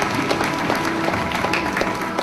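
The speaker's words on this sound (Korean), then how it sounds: "한국적 아름다운 모습에 중간중간 박수가 터집니다." Audience clapping during a Korean fan dance performed on a mission trip to Ghana, dense continuous applause mixed with a loud background of music and crowd noise.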